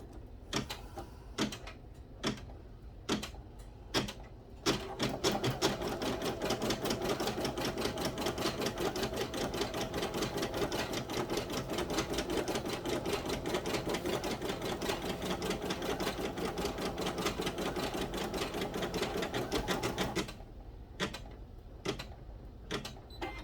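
An embroidery machine stitches out a design for a sticky note holder, a rapid, steady mechanical tapping that runs for about fifteen seconds, bracketed by slower separate clicks at the start and end.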